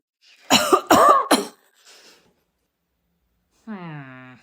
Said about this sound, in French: J'ai toussé.